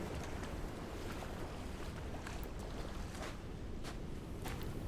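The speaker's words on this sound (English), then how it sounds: "It's real windy outside." Steady wind howling outside in the video game Dear Esther, a continuous broadband rush that fills the whole stretch at an even, moderate level with no talking.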